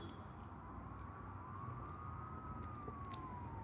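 An ambulance siren in the Car Parking video game wails faint and distant, rising and falling slowly through a steady background hum, with a few light clicks.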